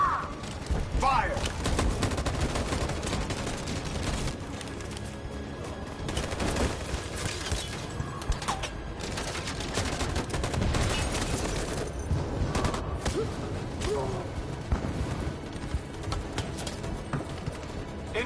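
Dense gunfire volleys from a war video game, rapid overlapping shots and bursts running continuously at close range with a busy battle mix underneath, with voices shouting over the shooting.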